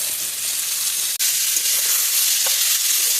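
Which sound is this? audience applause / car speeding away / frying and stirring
frying and stirring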